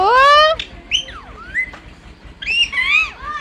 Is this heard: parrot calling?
yes